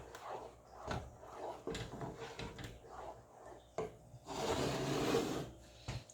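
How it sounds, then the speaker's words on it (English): A spoon stirs and scrapes thick home-made rice pudding in a pot, giving soft irregular scraping and rubbing strokes close by, with a longer, louder scrape near the end. "Going to stir it good. Scraping the sides."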